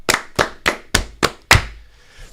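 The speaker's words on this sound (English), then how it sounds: "2 claps for all of them," Six hand claps in a steady, evenly spaced rhythm, close and crisp, with a short quiet tail after the last one.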